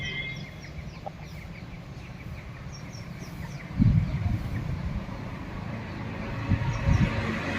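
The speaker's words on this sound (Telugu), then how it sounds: "కోడి గురుకు గురుకు అంటాను" A sick country chicken makes low, rough gurgling sounds in a few short bursts, close by, over a steady background hum with no talking.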